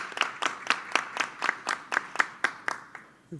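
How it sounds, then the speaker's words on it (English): Small audience giving a brief round of applause for the host college's president at a public commission meeting, about a dozen distinct claps in a steady rhythm that fades out, no talking. "Yes, you can give a round of applause."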